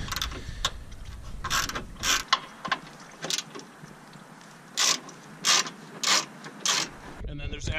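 Ratchet wrench loosening 10 mm bolts on the bulkhead cover of a 2006-2011 Honda Civic, with rapid clicking pawl bursts in a loose rhythm, close up and fairly loud over a quiet background.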